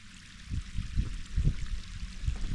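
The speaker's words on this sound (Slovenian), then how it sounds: "Narahlo teče vodica." A mountain stream in the Kamnik–Savinja Alps flows gently past pools, giving a soft, steady low burble with small rippling surges and no voices.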